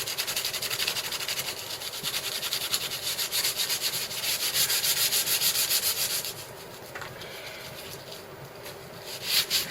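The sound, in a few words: sanding a wooden walking stick with coarse sandpaper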